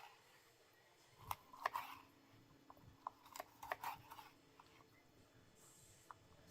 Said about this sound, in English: I'm going to cut these red peppers thinly.